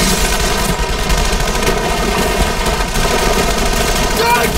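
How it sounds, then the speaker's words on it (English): Rapid gunfire in a tense confrontation in the TV western Justified, a loud, dense volley of shots running continuously with a chaotic background. "You shot at me!"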